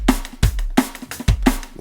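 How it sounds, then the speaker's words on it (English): A drum kit plays a normal-time beat at 174 BPM, punchy kick and snare alternating in a tight, fast pattern with hi-hat ticks between, close and loud, no talking. "So if I'm playing a normal time beat at 174, it sounds like this."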